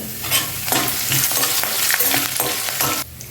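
Curry leaves crackle and sizzle loudly in a hot tempering of cumin and dried red chillies for ragi upma, a close, steady frying hiss with stirring, ending abruptly.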